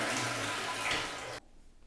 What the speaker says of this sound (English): I thought I'd flush that.